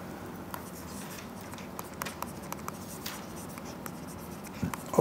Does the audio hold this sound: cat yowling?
no